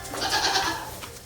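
An Olde English Southdown Babydoll sheep bleating in its stall, one drawn-out wavering bleat heard nearby, followed by faint shuffling in the barn.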